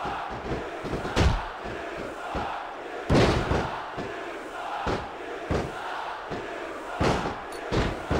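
Video-game wrestling crowd in SmackDown vs Raw 2006, a steady roar of arena noise broken by several loud impact thuds and surges of crowd reaction.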